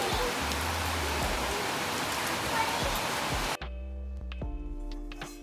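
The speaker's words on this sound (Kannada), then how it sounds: "ಕೃತಿ ಗಾಳಿ ಮಳೆ ಇಟ್ಕೊಂಡು ಬಂದ್ಯಾ ಶಾಲೆಯಿಂದ?" Heavy rain with wind, a dense steady hiss of falling water that cuts abruptly to a quieter indoor background with faint clinks.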